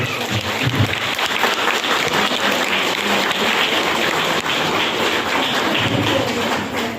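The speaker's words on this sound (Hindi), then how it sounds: "सारे सर के एक बार जोरदार ताली होनी चाहिए" A room full of people gives loud, sustained applause, a dense and even clatter of clapping that continues without a break.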